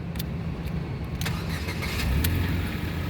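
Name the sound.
2011 Ford Fiesta 1.6 car engine starting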